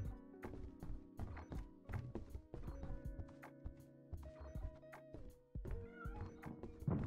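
Indoors at home, a cat meows repeatedly in short cries mixed with knocks and thumps, fairly close and moderately quiet.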